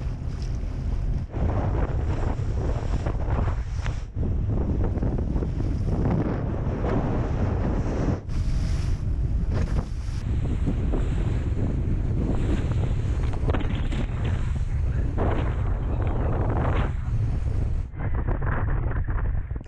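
Sea waves and gusting wind on the Vyborg Bay, a continuous loud rush of surf and buffeting wind noise against the microphone, with no voices heard.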